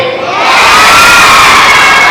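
A large school crowd of children cheers and shouts together in a loud, sustained roar that swells after a brief start and holds steady, with no talking over it.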